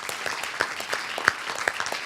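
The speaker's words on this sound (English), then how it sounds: "Let's give him a big round of applause." Applause from a live audience at an event, a moderately quiet, continuous patter of many hands clapping with a few sharper individual claps standing out.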